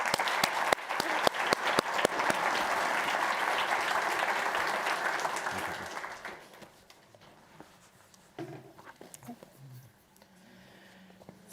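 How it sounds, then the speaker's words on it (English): An audience at a central banking innovation summit applauds loudly and steadily for about six seconds, then the clapping fades into scattered claps, shuffling and faint murmuring. "please an applause"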